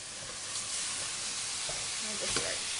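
Fatty ground meat for chili browns in a pot, giving a faint, steady sizzle and hiss broken by a few soft stirring scrapes.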